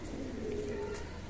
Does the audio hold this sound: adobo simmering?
no